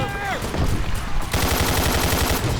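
Rapid gunfire in the video game Left 4 Dead 2, loud bursts of automatic shots firing close and continuously, with brief voice chatter at the start.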